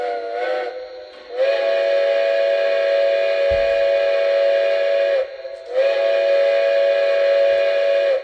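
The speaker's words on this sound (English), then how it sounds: "You get the new quilling sound on there." A model steam whistle blows in two long, wavering quilling blasts separated by a short dip, loud and close with a hissing edge.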